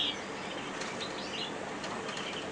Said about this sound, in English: He's here, the Siskin cock's a lovely cock bird,